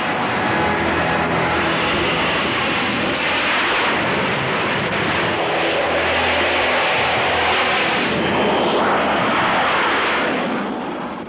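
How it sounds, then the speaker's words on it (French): Combat jets of a multinational force taking off, a loud sustained roar with swelling and fading rumbles from passing aircraft over eleven seconds, no voices. "au total 1200 avions de combat de la force multinationale continuent à décoller vers leurs objectifs"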